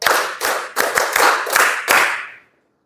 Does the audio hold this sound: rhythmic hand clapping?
yes